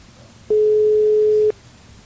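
On a live radio broadcast, a single steady telephone line tone sounds for about a second while a call goes through to a hotel switchboard, loud and clean against quiet background hiss.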